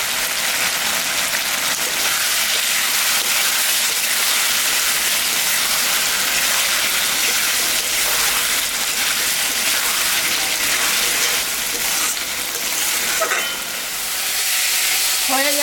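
Spices for a rui fish curry sauté in a pan in a loud, continuous hiss and crackle that sounds almost like heavy rain. The sizzle holds close and steady throughout, with faint scraping of a stirring spoon near the end.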